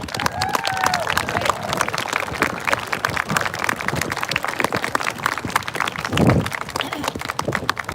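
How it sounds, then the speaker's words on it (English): An audience at a candlelight vigil for the missing applauds as award-winning teammates come forward: scattered, uneven clapping and crowd noise with a voice speaking over it and a brief thump near the end. "Y'all give them a round of applause while they come up."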